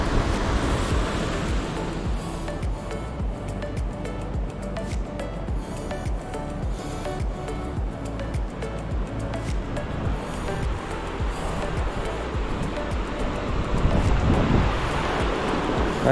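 Rushing water of a river rapid or small waterfall on the Näätämö River, a steady broadband roar that stays loud and continuous throughout, with no voices.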